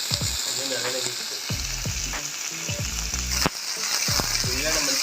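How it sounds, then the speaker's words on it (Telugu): Onions and mint hit hot oil and sizzle loudly up close. Scraping stirs from a spoon and a few clanks cut through the continuous frying. "ఉల్లిగడ్డ వేసుకుంటాం, నూనె ఆగింది"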